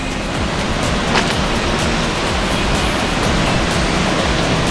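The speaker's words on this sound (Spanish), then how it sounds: "una poza creada por la misma caída de aquí del agua" A waterfall drops into a large natural pool along a cycling route between Xalapa and Xico, giving a loud, continuous, broadband roar of churning water with no talk over it.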